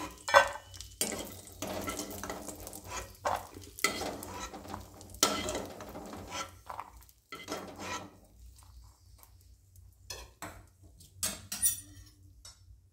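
Fried cashew nuts are scooped out of hot oil in a pan, with intermittent close metallic scrapes and clinks of a spoon over a soft, quiet sizzle, no voices.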